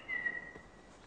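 A person whistles a single short sustained note, fairly faint and steady, then it fades out.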